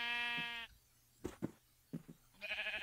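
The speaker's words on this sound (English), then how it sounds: "let's go kill those sheep we were just next to" Sheep in the Minecraft video game bleat twice, clear and close, at the start and end, with footstep-like taps in between.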